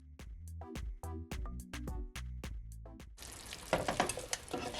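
Sweet peppers and green beans being stir-fried for Jamaican brown stew chicken chow mein: repeated close clanks of a utensil against the pan, then a loud, dense sizzle as the vegetables hit the hot oil.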